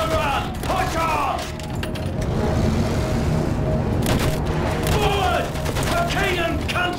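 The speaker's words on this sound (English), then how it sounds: "Use that machine gun! Mow them down!" Machine gun fire in the World War I shooter Battlefield 1, a sustained loud battle din of rapid gunfire and mechanical clatter with distant explosions, mixed under shouting game voices.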